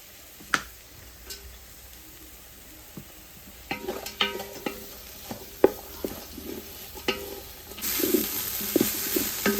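Cabbage and capsicum stir-fried in a pan, with quiet sizzling under sharp, irregular clicks and scrapes of a spatula against the pan, growing busier toward the end.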